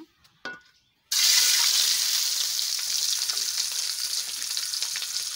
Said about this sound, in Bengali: এখন আমি ডিমগুলো ভেজে নিচ্ছি